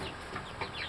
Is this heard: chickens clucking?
yes